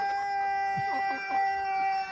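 A Denizli rooster crows on a farm full of chickens and roosters, one fairly faint call rising and falling midway over a steady electrical hum.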